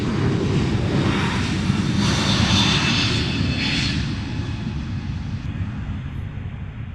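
Fixed-wing airplane departing London Luton Airport on a foggy day, a loud steady engine roar rising and falling as it passes, with broadband jet rush and low rumble throughout, no talk.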